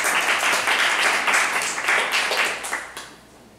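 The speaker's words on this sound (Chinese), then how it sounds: "掌声欢迎林老师来跟大家说明" Audience applause welcoming a speaker at a talk, a dense, steady wash of many hands clapping that holds loud for about three seconds, then thins and fades out at the end.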